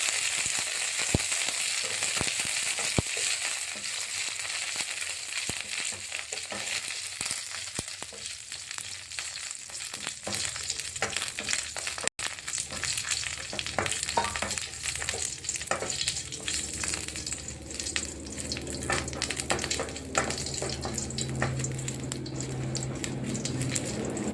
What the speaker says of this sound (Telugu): ఎండుమిర్చిని కరివేపాకుని వేసుకున్నాను. వేసుకొని కలపాలి.